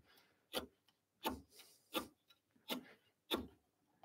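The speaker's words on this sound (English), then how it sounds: "Nice sharp chisel. So much easier." A sharp chisel cuts a hand mortice in wood with five evenly spaced, crisp strikes and scrapes, close and clear in an otherwise quiet space.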